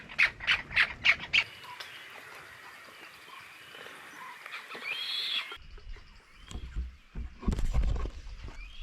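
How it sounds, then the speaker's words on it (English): Seabirds on Isla Isabel, Mexico, a series of five loud, rhythmic squawks up front, followed by scattered fainter calls, rustling and outdoor noise, then more harsh cries near the end. "Ooh, the birds."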